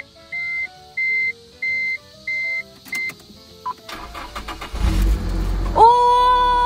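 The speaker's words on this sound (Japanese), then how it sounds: "それでは、エンジンかけていきまーす。" A Nissan Silvia S14 Q's with an SR engine, heard from inside the car: a row of dashboard warning beeps and clicks, then the starter cranks and the engine catches into a rising idle that steadies with a whine.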